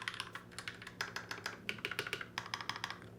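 Someone types on a Royal Kludge RK68, a budget hot-swappable mechanical keyboard. The keystrokes are quick, crisp and clicky, close up and fairly quiet, with nothing else heard.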